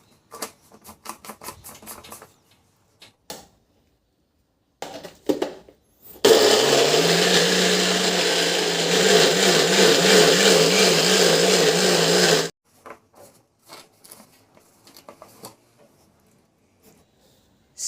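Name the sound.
blender pureeing tomatoes, onion, garlic and chili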